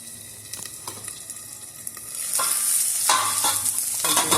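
Eggplant pieces sizzle and fry in a pan for tangy eggplant, sweet potato and raw mango stew, with a steady oily hiss that swells louder partway through and a few light stirring knocks, no voices.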